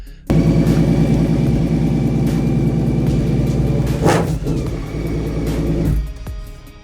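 A BMW motorcycle built around the enormous six-cylinder cruiser engine runs steadily nearby with a smooth, dense hum, then fades away toward the end.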